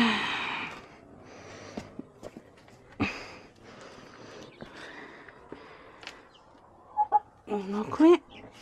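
Soft scattered hen clucks and murmurs come and go in a quiet space, with a few louder squawks near the end.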